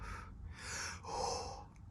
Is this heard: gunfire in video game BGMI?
no